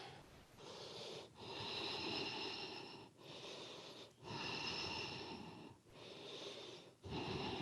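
Loud, close breaths during a yoga forward fold, drawn in long alternating pulls and pushes with an audible wheezy, airy rasp, four or five strong exhales in a steady slow rhythm with no talking.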